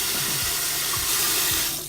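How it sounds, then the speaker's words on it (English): Hot and cold faucets run in a steady, loud rushing stream, with a few soft gurgles and knocks underneath the continuous hiss of water. "Run the hot water, run the cold water."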